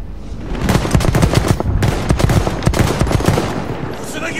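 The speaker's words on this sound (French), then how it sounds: "Et du coup maintenant on va passer à l'arme lourde" Heavy weapon fire in the video game Battlefield 1 rattles out in loud, rapid bursts of automatic shots that are dense and continuous for several seconds, with booming, echoing battle noise around them.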